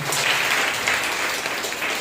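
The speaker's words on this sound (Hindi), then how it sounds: "मोहनी सिंह जी के लिए जोरदार तालियां हो जाए" Congregation applause at a Sunday church service, a dense, steady wash of many hands clapping together, loud and sustained throughout with no pause.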